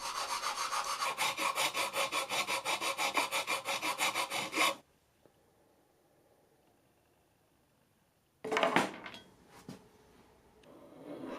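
Rhythmic rasping strokes of a hand tool on wood, quick and steady for a few seconds, then quiet, followed by a few more scraping strokes.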